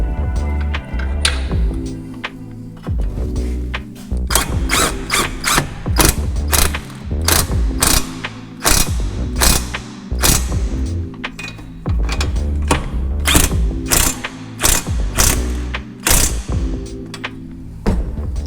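A ratchet tightens the strut top bolt on a 2012 Subaru Forester during front strut replacement: repeated rapid clicking bursts with short pauses between them, close and clear, with no talking.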